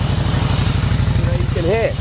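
Harley-Davidson Cross Bones V-twin motorcycle engine fires up and settles into a loud, close, lumpy idle, pulsing in an even rhythm as a voice speaks briefly over it.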